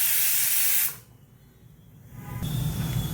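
A pressure cooker of chicken rassa lets off a loud hissing burst of steam that cuts off abruptly, then a softer hiss builds back up toward the end.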